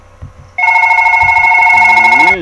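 A telephone rings loudly with a steady electronic trill for about two seconds, after a few faint, muffled voices.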